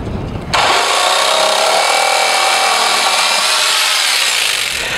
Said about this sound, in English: And then I'm going to reach in there with the jigsaw and cut that extra plastic off.